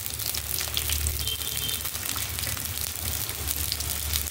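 Garlic cloves frying in hot oil in a pan for a crab curry, a steady loud sizzle that hisses continuously throughout with no talking.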